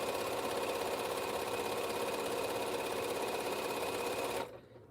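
Sewing machine stitching a quilt sashing row with cornerstones, running steadily and loudly for over four seconds before stopping abruptly near the end.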